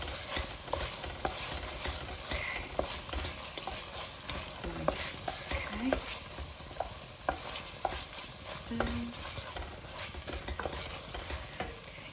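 A cooking sauce seasoned with crushed seasoning cubes and salt sizzles in a pot while a spoon stirs it with steady scraping strokes and occasional light knocks against the pot, close and alone.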